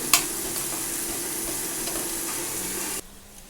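Sliced onions hit hot oil already seasoned with whole cumin and dried red chilli in a pan with taro stolons, giving a loud, steady close sizzle after a sharp opening splash, then cutting off abruptly.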